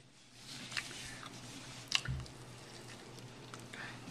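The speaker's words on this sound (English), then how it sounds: "Chew slower. Savor it. Chew faster." Someone chews a raw, frozen-solid Hungry Man chicken dinner with chicken and potatoes, giving close, quiet, squishy bites and a sharper crunch about halfway through, with no talking.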